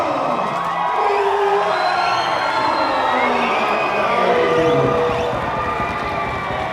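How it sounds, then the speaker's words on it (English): A loud boxing crowd at a New Zealand title fight cheers and whoops nonstop, shouts and whistles layered over a roaring wall of sound that never lets up. "the crowd is absolutely going off."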